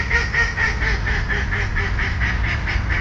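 Geese honk repeatedly beside a Mohawk River tributary in New York, a steady run of loud, close calls that continue without a break, with no talking.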